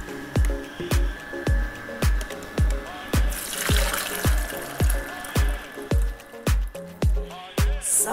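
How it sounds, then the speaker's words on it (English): Almond milk swirls and sloshes inside a Kuvings EVO820 slow juicer, with rhythmic gurgling plops repeating about twice a second, close and moderately loud. "you can see the milk coming to life in the machine. It's swirling around in there, mixing up."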